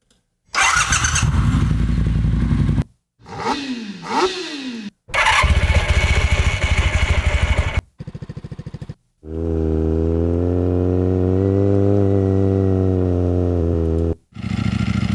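Several separate bursts from a Ducati motorcycle engine, loud and close, with rough revving and pitch sweeps early on, then a long steady idle-like drone with rich harmonics before a final cutoff.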